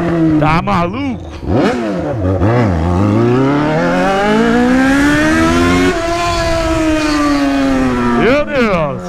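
A Yamaha XJ6 motorcycle engine revs hard and close, with several quick blips rising and falling, then a long climbing pull that holds high before easing off and one final sharp rev.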